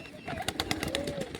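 A pigeon in a pigeon loft gives soft, brief coos close by, with a few short rising and falling calls over a low background rustle.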